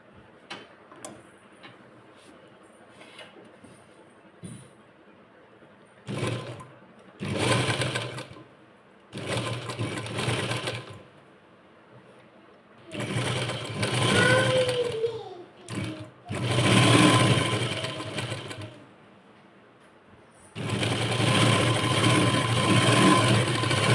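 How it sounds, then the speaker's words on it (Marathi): A sewing machine stitches a sleeve lining seam in repeated runs of fast, steady mechanical clatter, close and fairly loud, broken by short quiet pauses as the fabric is repositioned. "आपल्याला ह्या अशा पद्धतीने टिप घालून घ्यायची, टिप मारून घ्यायची"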